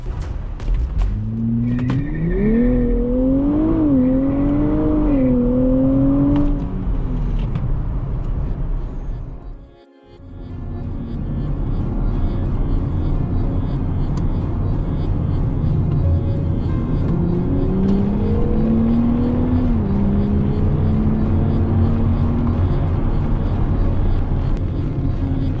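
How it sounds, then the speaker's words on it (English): Nissan Z with a twin-turbo 3-liter engine accelerates hard through gears, a loud rising engine note that drops briefly mid-run before climbing again. "smaller 3-liter engine, but it now has dual turbos"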